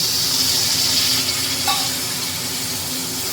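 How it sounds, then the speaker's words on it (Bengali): A bright, hissing sizzle of water meeting hot ground spices in a pan, gradually settling to a softer steady bubbling hiss. "এবার এর মধ্যে একটু জল অ্যাড করে নেব"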